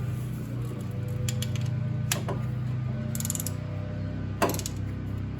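A ratchet wrench snugging bolts on high-voltage Prius motor cables fitted in a 1984 VW MK1 Rabbit, heard as brief clicking bursts spread over a steady low mechanical hum, close by with no talk.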